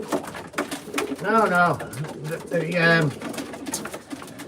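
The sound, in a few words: racing pigeons cooing in loft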